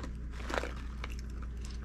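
Crunchy chewing up close on Boy Bawang Cornick, a Filipino corn snack: a quick burst of crisp bites near the middle followed by steady, softer munching, with no talking.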